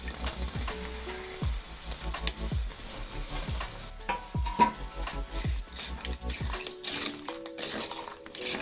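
Jaggery is stirred into soft cooked rice in a metal pot over a village fire, a ladle scraping and knocking the pot in repeated strokes over a low sizzle, loud and close.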